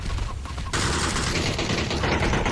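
Gunfire in PUBG gameplay: a dense, loud stretch of rapid shots and explosive noise that grows heavier partway through, with a voice talking briefly.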